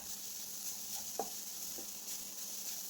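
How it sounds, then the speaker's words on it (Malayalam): Grated coconut dry-frying in a pan for mango ladoo, a faint, steady sizzling hiss broken by a couple of soft spoon taps as it is stirred. "ഈ തേങ്ങ നമുക്കതിലേക്ക് ഇട്ട് കൊടുക്കാം. ഇട്ട് കൊടുത്തൊന്ന് ഫ്രൈ ചെയ്തെടുക്കാം."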